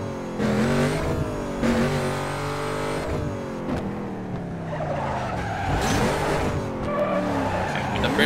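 A Pontiac GTO drifts in Need for Speed Carbon Redux. The engine roars loudly and continuously, with rising and falling revs under sustained tire squeal and skidding, and there is no talk.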